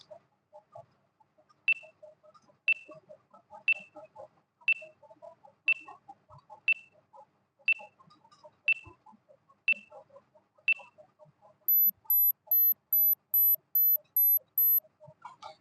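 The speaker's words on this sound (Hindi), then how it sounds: "इसका टाइमर मैं करती हूँ अभी स्टार्ट।" Countdown timer on a classification reasoning quiz for competitive exams, ticking at a steady one-per-second pace for about ten beats, then a rapid run of high-pitched electronic beeps marking the end, clear over a quiet background.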